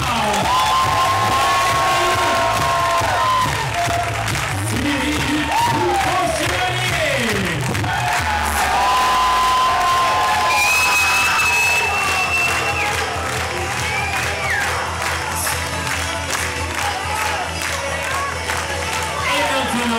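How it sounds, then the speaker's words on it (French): Crowd cheering, whoops and applause greet the teams at an LNI improv match against Chevaliers de l'imaginaire, a loud, dense wash throughout with voices and shouts mixed in. "Un tonnerre d'applaudissements pour nos équipes de ce soir"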